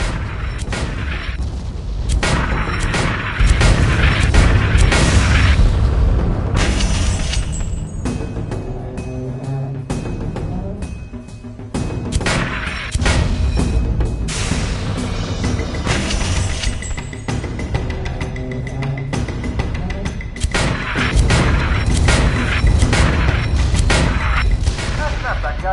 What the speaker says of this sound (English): Get upstairs and get on the Gatling gun.